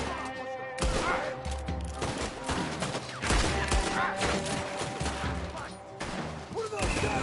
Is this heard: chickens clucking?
no